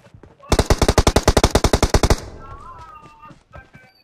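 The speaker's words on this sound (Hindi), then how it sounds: "वो मेरे पे शॉट मार रहा है" Automatic gunfire in a PUBG-style battle royale game: a loud, fast burst of roughly fifteen evenly spaced shots lasting under two seconds, followed by quieter scattered game sounds and a faint tail.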